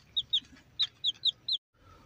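A native hen clucks near her newly hatched chicks with six short, sharp, close calls in quick succession, then a brief silence and faint background noise.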